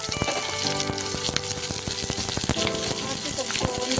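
Chopped onions and green chillies with curry leaves frying in hot oil for a rasam, a dense continuous sizzle with constant crackles and small pops, close and loud throughout.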